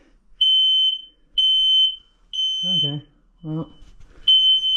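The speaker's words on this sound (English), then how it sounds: "The smoke detector went off now." A smoke detector goes off near a running Honda GX120 engine on an air compressor with no compression: a loud, piercing electronic beep repeating in long regular pulses, with someone speaking briefly between them.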